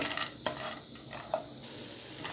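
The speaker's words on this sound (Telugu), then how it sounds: "పచ్చిమిర్చి అలాగే వెల్లుల్లి రెబ్బలు కూడా వేసుకోవాలి వేసుకొని మనం బాగా వేయించుకోవాలి" Green chilies and garlic cloves frying in a pan, a faint steady sizzle with a couple of soft clinks from stirring, quiet and close with no voices.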